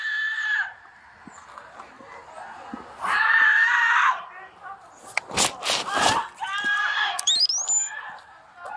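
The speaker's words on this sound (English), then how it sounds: "there's always going to be some woman off camera screaming like a banshee" A woman screams off camera in police bodycam footage, producing long shrill wails that rise and fall over several seconds. Bursts of loud shouting, bumps and knocks break in between the screams.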